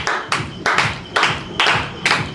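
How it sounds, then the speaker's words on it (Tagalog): Five sharp, evenly spaced claps from a classroom of students in a Filipino school, crisp and moderately loud with no talking over them. "So, bigyan natin siya ng 5 palakpak."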